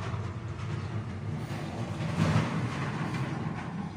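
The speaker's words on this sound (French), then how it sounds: "Excusez-moi les bruits, c'est un camion qui passe." A truck passes by outside a workshop, a broad rumbling roar that swells to a peak midway and then eases off, heard without any talking.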